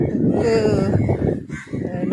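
Crows and other birds call at the Kannagi Amman temple in Vattrappalai, Mullaitivu, with harsh honking cries heard under someone talking.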